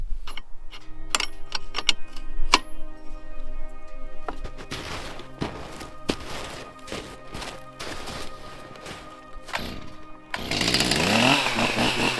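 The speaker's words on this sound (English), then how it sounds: "I'm gonna get the chainsaw out, cut that out of the way quick" A chainsaw cutting a downed branch in snow roars in loudly near the end, after a run of sharp clicks and knocks from handling the saw and gear.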